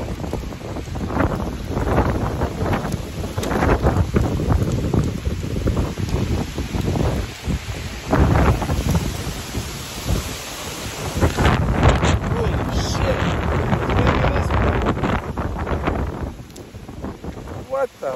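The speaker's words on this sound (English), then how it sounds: "I wasn't expecting that wind gust." Strong wind gusts from Hurricane Ida roar and batter the microphone outside a building in Baton Rouge, loud and turbulent throughout with surging peaks and rain-like rushing.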